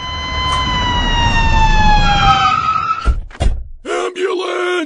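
A voice imitates an ambulance siren with a long, loud, falling wail, followed by a couple of thumps and a short vocal sound.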